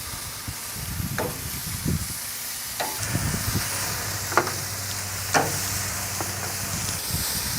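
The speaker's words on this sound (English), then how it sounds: "I'm going to throw it all on the grill." Marinated Asian pork belly sizzling on a Hasty Bake charcoal grill, a steady close hiss and crackle with scattered sharp pops from caramelizing fat, no voices.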